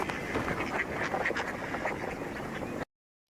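Wild ducks quack repeatedly in a game trailer, a cluster of nasal calls over a soft ambient bed, moderately distant, cutting off abruptly to silence near the end.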